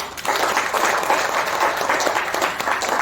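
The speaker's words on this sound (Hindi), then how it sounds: "यादव सभा के लिए जो है जोरदार ताली बजाइए" A crowd at a Yadav Sabha gathering claps enthusiastically, a dense, steady wave of applause that holds at full volume throughout.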